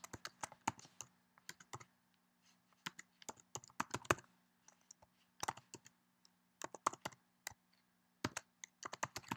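Quick bursts of keystrokes on a computer keyboard, entering a file name during a Maya export, come as clustered clicks separated by short pauses, close and clear against a faint steady hum.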